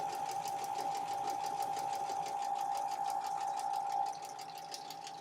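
A sewing machine stitches along a dotted line, giving a steady, fast whirring hum with rapid even needle ticks. It is close and alone, then softens slightly near the end.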